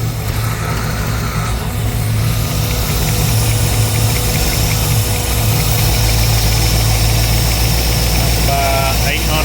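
A car engine running on a carburetor after its Holley fuel injection was removed idles at about 800 rpm, a loud, steady, rumbling drone with a slightly uneven lope throughout.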